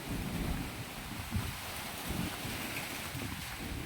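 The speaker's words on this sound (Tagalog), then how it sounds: "Malakas talaga ang hangin" Strong storm wind roars steadily against the microphone, buffeting in low gusts with no voices.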